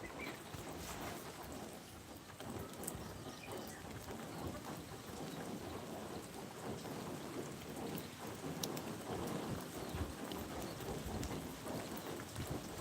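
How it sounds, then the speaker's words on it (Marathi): Steady moderate rain falls over farmland during a brief heavy downpour, a dense continuous patter with occasional sharper drops and distant rumbles, heard alone without talk. "आता सध्या तुरळक प्रमाणात असा पाऊस"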